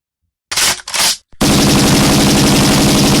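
Loud gunfire sound effect in a dramatic comic-book narration of a wrestling-ring scene with violent animals: two short bursts, then a sustained, dense rattling volley like machine-gun fire that continues to the end.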